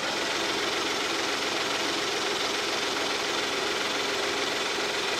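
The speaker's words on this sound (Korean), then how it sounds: "엔진 소리 한번 들어볼게요." A Hyundai Genesis BH330 sedan's V6 engine idles steadily up close under the open hood, a constant, even hum and whir with no change in pace or any voices.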